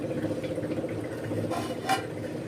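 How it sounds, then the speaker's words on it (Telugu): Kitchen clatter of a metal lid set onto a cooking pot of boiling rice and vegetables for biryani, with a few scrapes and a sharper clink near the end, close and moderately loud. "ఇప్పుడు నేను దీని మీదకి మూత పెడతాను."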